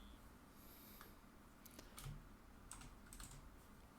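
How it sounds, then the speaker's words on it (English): A computer keyboard is tapped in short, quiet bursts of separate keystrokes, close by and faint, with a brief breath or sniff between them and no speech. "I'm typing in the predictions"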